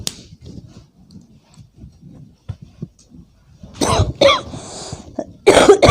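Quiet breathy sounds give way to several harsh, close coughs in bursts, with throat clearing between them, loud and abrupt near the end.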